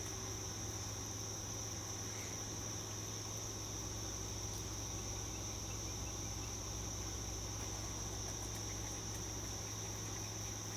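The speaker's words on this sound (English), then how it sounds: "Mostly just crickets." Crickets chirp in a steady, dense, high-pitched trill at sunrise outdoors, faint but continuous, with a low background hum and no voices.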